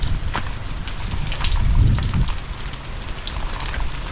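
Rain falls steadily nearby, a dense patter on surfaces with a brief low rumble in the middle.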